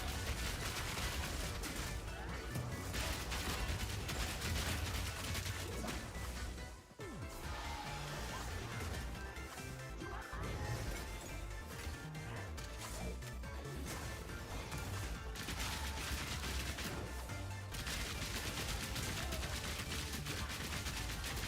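Grenade explosions in the action game Path of Exile 2, a dense, continuous barrage of booms and crashing impacts layered over game music and effects, with no letup.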